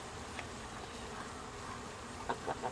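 Honey bees buzzing in a low, steady drone around an open hive during an end-of-summer inspection, faint and continuous with a few soft bumps and clicks near the end.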